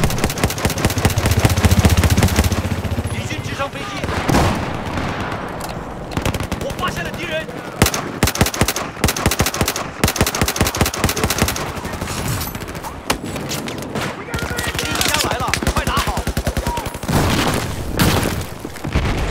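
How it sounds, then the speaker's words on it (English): Machine-gun bursts from an M240 in Battlefield 4 on a carrier assault map, with loud rapid automatic fire and booming explosions running through the clip, under intermittent talk from players. "I had just unlocked the M240. That was the first burst I used."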